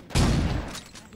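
A single loud, close shotgun blast from the video game Saints Row 2, a sharp booming report with a short decaying tail.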